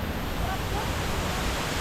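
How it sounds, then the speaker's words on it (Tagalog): Steady roaring rush of a waterfall on Mt. Romelo mixed with buffeting strong wind noise on the microphone, loud and continuous throughout. "Sobrang lakas kasi itong hangin tapos yung bagsak ng tubig."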